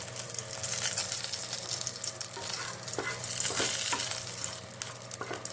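Whole dried chilli, nigella, cumin and a bay leaf sizzle in hot oil for tempering, a steady close crackling hiss with a few soft stirring knocks and no talking.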